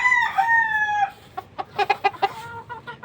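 Young gamefowl stag roosters crowing: a long drawn-out crow opens, then a series of shorter, choppy crowing bursts and clucks, close and loud.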